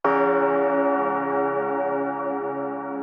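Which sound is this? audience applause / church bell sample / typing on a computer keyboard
church bell sample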